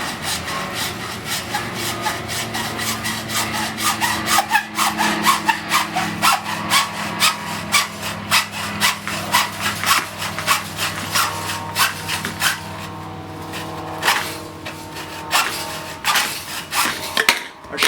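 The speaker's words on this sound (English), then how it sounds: "Now Tom is going to use his hacksaw with a fine blade on it to cut the pipes" A fine-bladed hacksaw cutting through pipe, a steady run of rhythmic back-and-forth rasping strokes, close and fairly loud, with a brief pause near the end and no talk.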